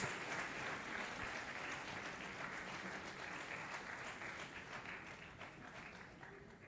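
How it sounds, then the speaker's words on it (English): Audience applause at a conference awards moment, dense and steady across the whole span, alone with no talk and gently fading toward the end. "Everyone, big round of applause"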